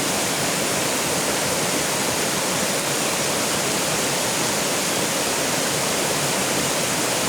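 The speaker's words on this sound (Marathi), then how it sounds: "डोंगराच्या प्रवाहातून तुम्ही बघत आहात हे पाणी किती खळखळ वाहत आहे" Steady, full roar of rushing water fills the whole stretch, a constant broadband gush like a fast mountain stream, close and loud with no voices.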